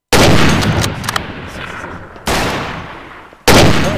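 Loud, close gunfire from a weapon in a Garry's Mod roleplay game. One burst of shots decays over about two seconds, and then two more sharp blasts each crack and fade out.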